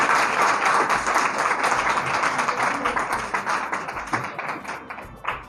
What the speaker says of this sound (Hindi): जोर ताली बजाइए खुदा के रूह के लिए जो हमें इस्तेमाल करता है।